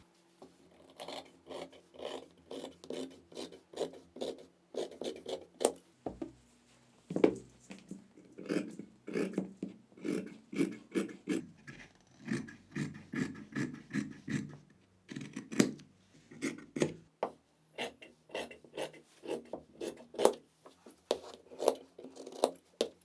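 Scissors cut through fabric for a hoodie sleeve, giving a close, quiet series of rasping snips and slides in an irregular rhythm, with brief pauses between cuts.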